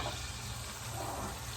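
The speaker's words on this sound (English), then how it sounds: "So 15 minutes later, we remove it sizzling from the oven." A rack of lamb just out of the oven sizzles and crackles steadily at close range, a dense, even frying hiss with no voices.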